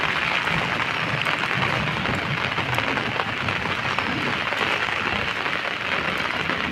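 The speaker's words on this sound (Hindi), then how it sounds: "बहुत ज़ोर की बारिश हो रही है" Heavy rain pours down outdoors in a steady, dense roar beside a drainage channel, with no pauses or voices.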